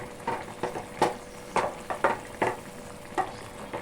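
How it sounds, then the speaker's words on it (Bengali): Pabda fish sizzling and frying in a pan of mustard sauce, with a steady hiss broken by irregular stirring scrapes and soft clatters at close range, no talking. "এবার একটু মাছগুলো ডুবিয়ে দেই"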